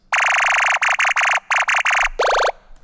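Synth bass lead built from recorded water, edited into a drum-and-bass style tone: a run of loud, buzzy, harmonically rich stabs in a choppy rhythm, ending on a downward-bending note, with no voice.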